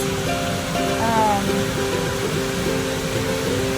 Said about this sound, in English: Hopefully you can even hear me over this waterfall.